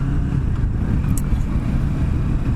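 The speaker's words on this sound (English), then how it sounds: "this is a 649cc motor, parallel twin" A 2017 Kawasaki Ninja 650 with its 649cc parallel-twin engine runs with a loud, steady low rumble, close up, with no talking.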